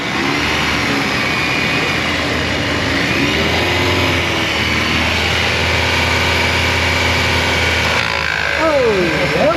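A noisy AC compressor on a Cadillac runs with a steady mechanical rattle over the engine's low hum, heard up close in a repair shop, with people talking intermittently.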